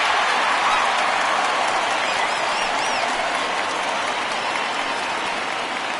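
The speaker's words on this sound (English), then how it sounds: "So he receives a nice ovation from this home crowd, departing after surrendering just 1 earned run." A home crowd at a baseball game applauds the departing starting pitcher, a dense, sustained wash of clapping that holds steady and loud throughout.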